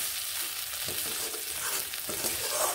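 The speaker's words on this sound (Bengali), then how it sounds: "এবার ভেজে নিলাম, এইভাবে নেড়ে নিচ্ছি" Ridge gourd curry fries in a pan as it is stirred, giving a steady close sizzle with spoon scrapes and shuffling, continuous throughout, with no voices.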